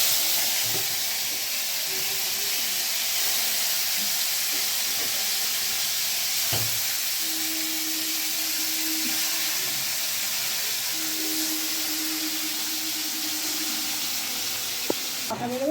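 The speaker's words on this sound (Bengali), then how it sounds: "তেল দিয়ে একটু গরম করছি। গরমও হয়ে গেছে, এবার একটা একটা করে মাছ ছাড়বো" Pieces of lotte fish (Bombay duck) go into hot oil in a heated wok, producing a continuous close sizzle and hiss with faint thin tones and a few soft clinks along the way.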